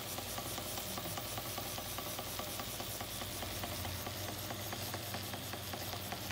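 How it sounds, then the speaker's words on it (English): A small early Empire B-30 toy steam engine chuffs and hisses in a fast, steady rhythm, mechanical ticking and knocking running continuously up close. "You can throttle the engine down."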